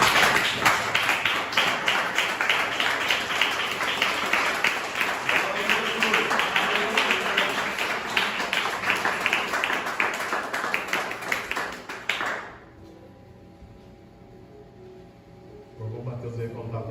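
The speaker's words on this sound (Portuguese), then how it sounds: "e aplaudir o nome do Senhor Jesus." A church congregation claps in a loud, sustained burst of many hands, rhythmic and dense, which cuts off abruptly after about twelve seconds into a quiet hum, then a voice resumes speaking.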